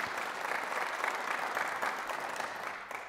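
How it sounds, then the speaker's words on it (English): An audience at a political speaking event applauds in a steady burst of dense clapping that holds for about three seconds, then begins to thin out. "we can applaud that one."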